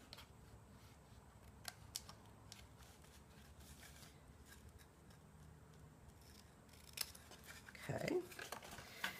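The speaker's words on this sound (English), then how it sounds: "And again, we're going to trim off these little edges." Scissors trimming small paper edges for a kirigami box, with faint, quiet snips spread through the clip and a louder crunch of cutting near the end, recorded close in a quiet room.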